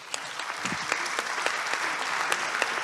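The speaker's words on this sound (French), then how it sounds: "je voudrais qu'on les remercie et qu'on les applaudisse." A conference audience at a round table session claps in a dense, steady round of applause, many hands close together, holding even throughout without voices standing out.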